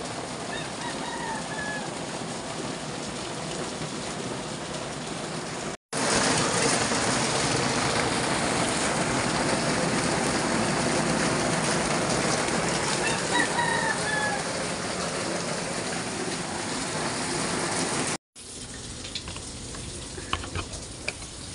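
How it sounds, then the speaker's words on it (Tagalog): Heavy typhoon rain pours in a dense, loud, steady hiss, broken by two abrupt cuts. A rooster crows faintly in the background. "Ang bagyong sunod-sunod! Yahoo! Lakas ng ulan!"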